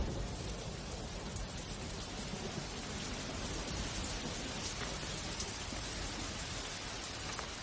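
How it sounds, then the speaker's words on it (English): Monsoon rain falls steadily on a Thai forest, a broad, even hiss of heavy downpour with occasional louder drops, continuous and without voices. "The monsoon rain feeds the tropical flora and fauna."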